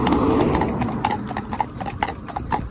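Hooves of a horse being schooled for road traffic clip-clop on a public road in a steady, close, moderately loud rhythm, with no voices.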